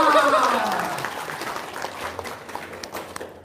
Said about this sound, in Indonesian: Semuanya tepuk tangan dong.